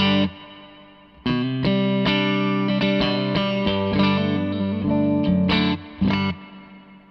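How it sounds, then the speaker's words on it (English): Electric guitar played through the spring-style reverb of a Zander Circuitry Exosphere pedal, with a few sustained chords and single notes ringing out, each leaving a shimmering, slightly modulated tail. "So that's reverb 1, which is kind of a spring reverb style thing."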